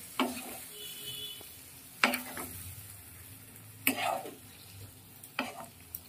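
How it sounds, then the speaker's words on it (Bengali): Vegetables sautéing with spices in a pan for a light fish curry, a faint sizzle under four or five spaced spatula scrapes and knocks, heard close with no one speaking. "নেড়ে দিয়ে মশলার সঙ্গে সবজিটা কষিয়ে নেবো ভালোভাবে"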